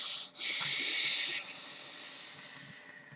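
A close inhale draws air through a vape fitted with an RBA deck in a TFV18 tank, giving a loud, airy hiss lasting about a second that then fades into a soft trailing breath.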